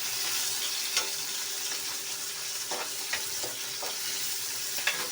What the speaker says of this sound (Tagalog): Sinulak ko na yung sibuyas at saka bawang. Susunod ko yung kamatis.